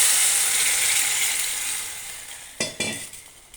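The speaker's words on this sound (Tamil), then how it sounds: "இப்போ அந்த தண்ணி ஊற்றுறேன்." Water poured into a hot pan of roasted semolina, a loud hiss that fades gradually, then a pair of sharp bursting sizzles near the end, close and with no talking.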